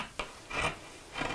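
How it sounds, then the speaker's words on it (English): Fabric scissors crunch through denim while a cushion cover is trimmed, a few short close snips spaced apart, quiet and dry, with no talking. "The sound of scissors crunching through fabric,"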